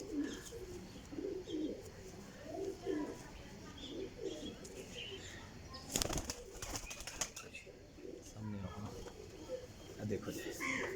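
High flyer pigeons coo softly in the background, with occasional chirps and a brief burst of noise midway, while people talk over them throughout.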